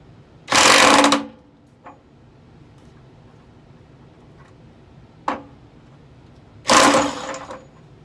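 An inexpensive impact driver on a 1/2 inch drive with a 1.5 inch hex socket works loose a stuck element from an electric water heater, giving two loud bursts of rapid hammering about a second long with faint clicks in between.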